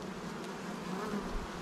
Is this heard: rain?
no